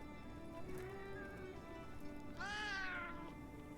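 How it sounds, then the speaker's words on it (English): A cat meows twice in the video game Monster Hunter Wilds, a short cry followed by a longer, louder one that rises and falls, over a quiet game background. "that cat is cute."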